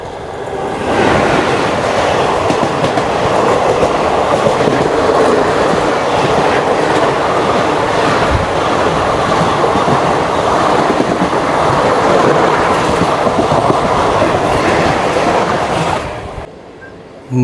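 The Krishna Express roars past at a railway station with a loud, steady rush of wheels and clickety-clack rail noise, lasting about sixteen seconds before cutting off abruptly.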